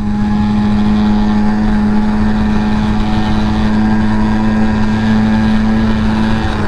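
A heavy car's engine pulls hard in third gear, a loud, close, steady drone with a sustained tone that holds through the whole stretch, no talk.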